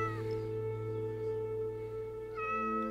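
A cat in the Minecraft video game meows with sustained tonal cries over a steady background hum, followed by another short meow near the end.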